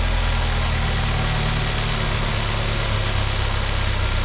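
The four-cylinder engine of a 2018 Ford Focus RS with a Mountune intake manifold runs close by, giving a steady, rumbling, slightly rough idle with no voices.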